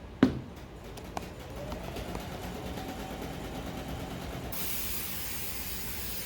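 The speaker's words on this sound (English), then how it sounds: "I really just want that middle to be really saturated with the spray adhesive." A steady, hissing spray from an aerosol can of spray adhesive runs for several seconds after a sharp click, then the hiss shifts brighter near the end.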